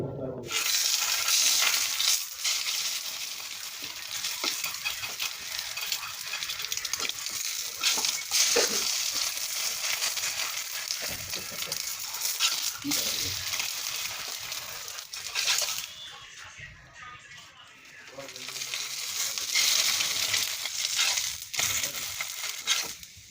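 Lentil dal with eggs and potatoes cooking in a pan, a steady broad frying sizzle with scraping and stirring clatter throughout, briefly quieter midway before the sizzle returns, with no talking.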